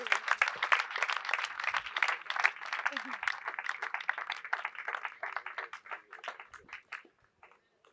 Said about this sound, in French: Est-ce qu'on peut acclamer pour ces grands messieurs?